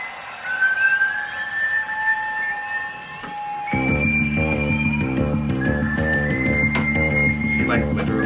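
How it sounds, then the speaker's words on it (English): A whistled melody from a song carries clear, sustained tones, then a heavy band comes in underneath while the whistling continues over it. "Is he literally whistling?"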